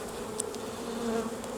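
Honey bees being shaken into a new hive at an apiary during a hive split: a dense, continuous droning buzz of many insects, close and steady, with occasional individual bees zipping past.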